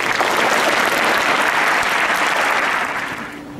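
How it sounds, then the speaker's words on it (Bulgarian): A large audience at the 115th anniversary ceremony of a Plovdiv school applauds in a loud, sustained wash of clapping that tapers off slightly at the end. "да я подкрепим с аплодисменти"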